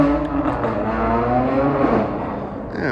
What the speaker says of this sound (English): we got some dickhead on the road, revving his engine